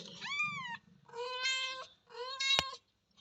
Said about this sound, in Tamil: பூனை குட்டி போட்டிருக்கு.